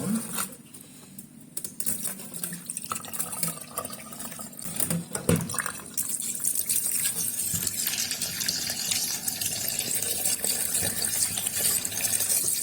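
Meat bones for afang soup are washed by hand in water, with splashing, sloshing and a running tap, a sharp knock of bone partway, then steady gushing water to the end.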